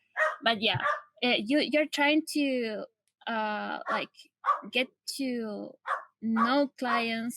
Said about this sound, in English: sorry for my dogs, they want to participate too